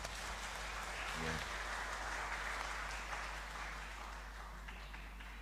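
Steady applause from a church congregation greets a newly ordained pastor at an ordination service, sustained and even across the clip, heard from a distance over a low hum.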